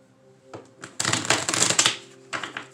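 Tarot cards shuffled and drawn by hand, a short burst of dense riffling and flicking near the listener, rising suddenly, then tapering to a few softer card slaps over a faint steady hum.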